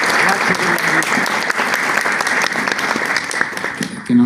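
An audience claps loudly and steadily for an award-winning Italian pastry chef and ambassador of Italian cuisine, then the applause cuts off sharply as a voice begins right at the end.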